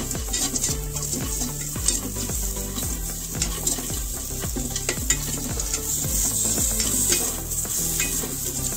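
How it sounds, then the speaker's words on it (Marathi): Coriander and spice paste ingredients roasting in a pan for stuffed bitter gourd, a loud continuous sizzle with steady rhythmic stirring and scraping all the way through. "कोथिंबीर काढते आणि हे सुद्धा भाजून घेते"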